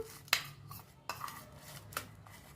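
Utensils scrape and clink against a bowl while tomato, mayonnaise and tomato sauce are mixed into a sandwich filling, with a few sharp taps spaced across a quiet kitchen background.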